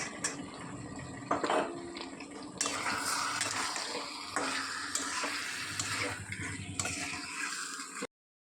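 Chicken being stirred and sautéed with spices in a pan for chicken dum aloo, with a steady close sizzle and repeated scraping stirs of a spoon against the pan, continuous for several seconds.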